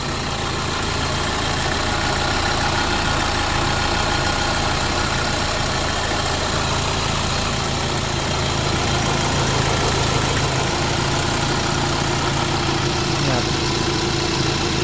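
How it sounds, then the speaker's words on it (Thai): A 2010 Nissan Navara 2.5 pickup engine idles steadily up close for the whole stretch, a continuous even rumble with faint mechanical ticking and no talk. "อ่ะเดี๋ยวมาฟังเสียงเครื่องยนต์ครับ"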